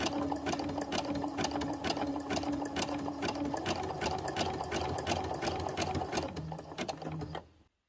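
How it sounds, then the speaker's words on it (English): A sewing machine runs a zigzag stitch along fraying fabric, a close, fast mechanical clatter of needle strokes with a steady motor hum that slows and stops near the end. "I'm actually going to run a zigzag stitch to act as an overlock."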